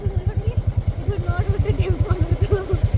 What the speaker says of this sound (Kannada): ಇವನು ಯಾರೋ ಗಾಡಿ ಆನ್ ಮಾಡ್ಬಿಟ್ಟು ಹಂಗೆ ಹೋಗವನೇ